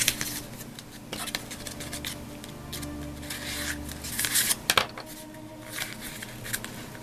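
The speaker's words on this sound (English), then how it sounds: "Fold it over, next flap." Paper being folded into an origami shape, with close, soft crinkling, rustling and sharp creasing sounds in irregular bursts, fairly quiet.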